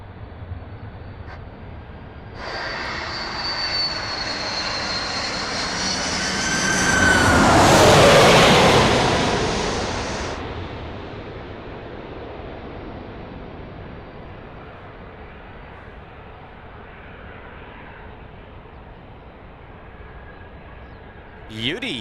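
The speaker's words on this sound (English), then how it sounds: "coming in on finals now is Qantas 128. It's coming in from Hong Kong. It's an A330-300." A Qantas Airbus A330-300 lands on runway 16 right at Sydney Airport; a jet roar with a high whine swells in, peaks loudly for several seconds, then fades into distant rumble.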